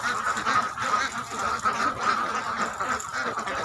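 A flock of laying ducks quacking continuously in a steady, dense chorus, close and moderately loud with no voices over it.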